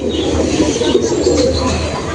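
Chotial Madras pigeons cooing nearby in a loft, a continuous low murmuring coo with faint higher chirps in the background.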